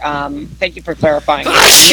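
A loud, close sneeze bursts out near the end, following a stretch of casual conversation between podcast hosts.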